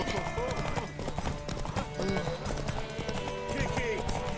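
Steady clip-clop of a horse galloping in a tower race in The Witcher 3, the hooves drumming close and continuous over a busy layer of game sound and music.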